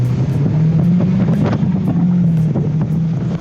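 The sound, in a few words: 2019 Mazda MX-5 Miata four-cylinder engine and exhaust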